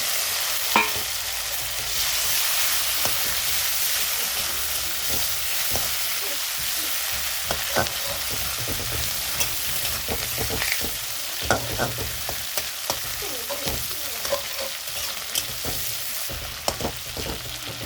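Catla fish oil and fish roe fry in a pan with a dense, continuous sizzle, broken by frequent sharp clicks and scrapes of a stirring utensil.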